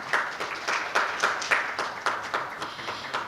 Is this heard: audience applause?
yes